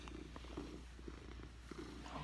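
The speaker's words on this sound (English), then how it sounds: "Who's this kitty?" A cat purrs softly and close by, a low steady rhythmic rumble pulsing in even breaths against a quiet background, with no voices.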